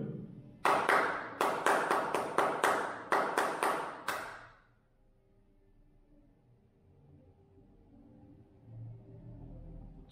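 Sharp hand claps tap out the opening two measures of a rhythm exercise in an aptitude-exam prep lesson, about a dozen close, loud claps in an uneven pattern over four seconds, then quiet room tone.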